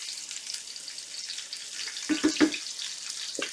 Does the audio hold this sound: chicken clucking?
no